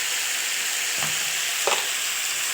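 Chicken and vegetables fry in a pan with a loud, continuous close sizzle for basmati rice, and a utensil scrapes and stirs them twice.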